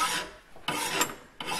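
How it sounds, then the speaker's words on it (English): Three rasping strokes of a sharp hand file drag across hard truck spring steel being shaped into a bark spud, each stroke a gritty scrape with brief pauses between. "So this is the filing that's going to make the final shape."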